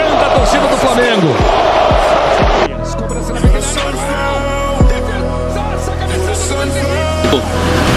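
Flamengo supporters in a packed stadium chanting a player's name, Hugo, a dense roaring crowd chant with rhythmic thuds and shouts throughout, steady and loud under the match atmosphere.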